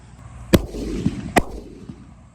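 Laxmi bomb firecrackers explode inside a water purifier. Two sharp, loud bangs come about a second apart, with fainter pops and crackles between and after them, and no talk.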